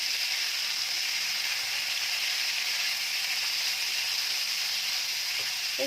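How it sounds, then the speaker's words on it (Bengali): Thinly sliced chicken frying in hot oil, a steady, close, bright sizzle and hiss that holds evenly throughout with no voices. "তেলটা গরম হয়ে গেছে, এখন আমি চিকেনগুলোকে দিয়ে দিচ্ছি।"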